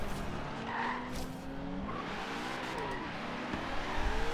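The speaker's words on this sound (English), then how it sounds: "this thing got a lot of wheel spin" Lamborghini in Forza Horizon 3 spinning its wheels and skidding: a continuous engine roar with tire squeal layered throughout, steady and loud, with a voice talking over it.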